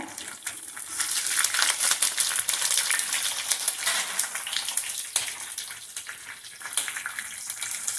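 Curry leaves and green chilli sizzle steadily in hot oil, a loud, close, continuous crackling hiss with small swells and bursts, alone with no talk.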